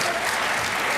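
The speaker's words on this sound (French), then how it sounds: "S'il vous plaît, les applaudissements." Audience applause during a French-language Canadian party leadership debate: dense, steady clapping from a sizable crowd, loud and continuous throughout, with no voices over it.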